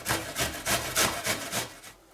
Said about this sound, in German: werden wir erstmal die Äpfel reiben